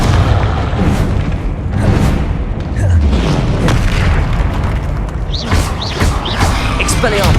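Confringo spell blasts in Hogwarts Legacy boom repeatedly amid dense combat noise, a loud near run of thudding explosions and crackling bursts with whooshing spell effects, barely pausing throughout.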